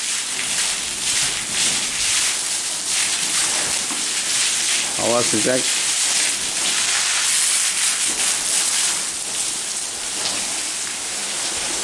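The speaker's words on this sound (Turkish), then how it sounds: "Yağmurlama yap sırtına." Water spray sprinkled over the backs of cattle on a hot day gives a steady, loud rain-like hiss across the whole clip, with someone speaking briefly partway through.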